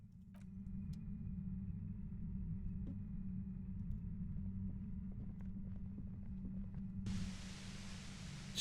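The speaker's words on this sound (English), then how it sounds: "Aggressive white noise fills your skull." Disco Elysium game audio: a low droning rumble with faint ticks and tones, then harsh static white noise bursts in abruptly near the end and holds loudly.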